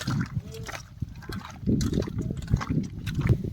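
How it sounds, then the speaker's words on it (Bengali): A large fish being rinsed by hand with salt and water, wet sloshing and splashing with irregular scrubbing handling noises, close and continuous, with brief faint voice sounds. "আমরা এখন লবণ দিয়ে ধুয়ে নেব লবণ দিয়ে ধুয়ে দিলে একদম মাছটা একদম পরিষ্কার হয়ে ধুয়ে যাবে"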